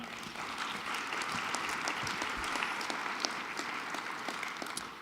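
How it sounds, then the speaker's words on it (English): A luncheon crowd at a national leadership awards forum applauds its leaders, sustained even clapping from many hands heard at a moderate distance, fairly quiet and continuous with no voices over it. "Big round of applause for them."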